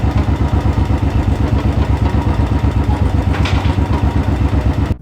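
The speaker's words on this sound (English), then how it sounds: "Warm up the engine for 2 minutes." A Royal Enfield Classic, Bullet or Thunderbird motorcycle idles on its center stand while warming up, a loud, close, steady single-cylinder thump with an even, rapid pulsing rhythm and light mechanical clatter.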